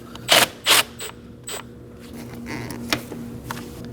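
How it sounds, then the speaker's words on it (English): A ratchet with a 10mm socket loosens a hose clamp on a 2011-2016 Kia Optima engine, giving a few sharp, close metallic clicks early on, then fainter ticks against a low background hum. "Using a 10mm socket, go ahead and do that"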